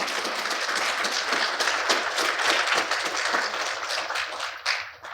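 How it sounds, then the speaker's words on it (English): An indoor audience at a year-end address keeps clapping in a sustained, even wash for several seconds, then tapers off with a few louder claps at the end. "you can clap if you want for that one right there"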